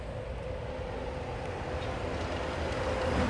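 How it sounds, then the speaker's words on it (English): A Disney World monorail passing, a steady low rumbling rush that swells slightly toward the end, moderately close with no speech. "Teal monorail."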